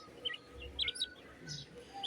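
Pet quails chirp in short, high, bright calls, several quick notes spread over two seconds, close by but faint.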